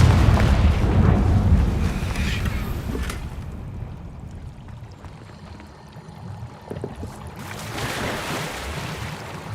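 A Confringo fire spell from the Hogwarts Legacy video game bursts in a loud, rumbling blast at the start. It fades into a lower roaring wash and then swells again toward the end.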